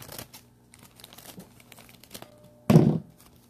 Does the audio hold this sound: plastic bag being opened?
yes